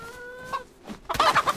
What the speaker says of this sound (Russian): Так, курочку слышу.